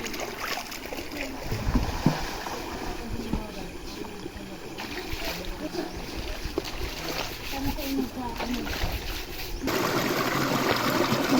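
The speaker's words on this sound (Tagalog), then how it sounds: "Nagbublo yung tubig niya." Cold spring water flows and bubbles into a small natural pool beside rice paddies, a continuous trickling and gurgling close by, running beneath someone talking throughout.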